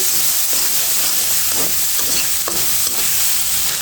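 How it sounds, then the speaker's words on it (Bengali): Tomato cooking down in oily spice masala for a fish curry, a steady loud sizzle and hiss with soft rhythmic scrapes of a spatula stirring through the pan. "এখন আমি মশলার মধ্যে টমেটোটা দিয়ে সুন্দর করে কষিয়ে নেব।"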